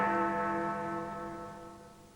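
Great bell of Big Ben, the 13.5-ton bell of the Westminster clock tower, struck once and left ringing, its deep, rich hum and overtones slowly fading away with no voices over it.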